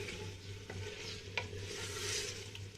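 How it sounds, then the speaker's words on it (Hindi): Mutton stirred in a pan over high heat, a continuous soft sizzle of frying meat with a few light spoon scrapes and clinks, close and fairly quiet. "तेज़ आंच पर सिर्फ 1 से 2 मिनट गोश्त को हिलाना है ताकि इसका रंग तब्दील हो जाए।"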